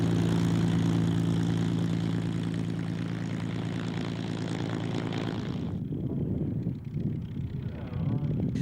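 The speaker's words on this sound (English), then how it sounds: "More Merlin engines crackled towards their display" Two P-51D Mustangs with crackling Merlin engines pass at the 1996 Duxford airshow, a loud, steady propeller drone that cuts off sharply near the end and leaves a faint, rumbling tail.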